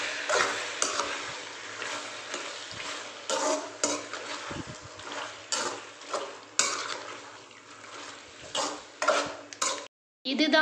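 A spoon stirs goat intestine curry in a metal pot, giving repeated scraping and clinking strokes in uneven bursts with brief pauses, close and fairly loud, over a faint simmer.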